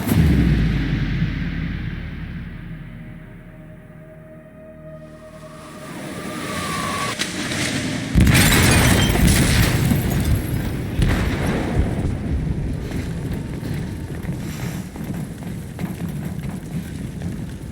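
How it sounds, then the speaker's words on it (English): An explosive detonates in the hold of a ship in the video game Detroit: Become Human. A low rumble builds first, then a sudden loud blast hits midway and gives way to a long, heavy roar that slowly fades. "They detonated an explosive in the hold."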